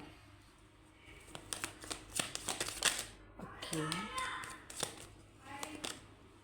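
Tarot cards being shuffled by hand in a run of quick riffling and flicking bursts that come and go, fairly quiet, with a voice speaking faintly between them.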